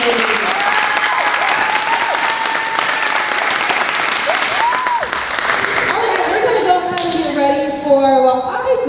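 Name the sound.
audience applause at a show choir cabaret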